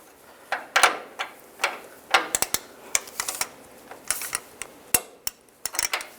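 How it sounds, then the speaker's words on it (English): A torque wrench tightening a front sway bar link nut on a 2005-2015 Nissan Xterra to 62 foot-pounds: a close, irregular series of sharp metallic clicks and ratchet snaps, some in quick bursts, with no talk. "And then torque this nut to 62 foot-pounds."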